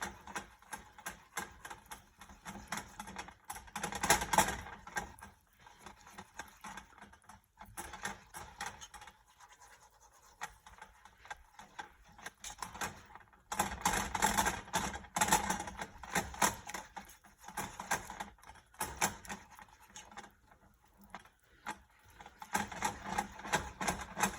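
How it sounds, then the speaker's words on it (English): A whisk clatters rapidly and steadily against a pan as cheese goes into a roasted garlic Alfredo sauce, a dense scraping, ticking rhythm with brief lulls, close and moderately loud, with no talking. "while we're whisking. And we're just gonna add 1 of our cups of cheese."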